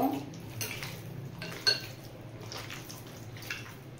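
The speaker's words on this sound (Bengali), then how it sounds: "1 চামচ মতো সরষের তেল দিয়ে ভালো করে মাখিয়ে নেব।" Mutton rubbed with about a spoonful of mustard oil in a bowl, giving soft faint squelching and scraping with a few light clinks of a utensil against the bowl, no talk.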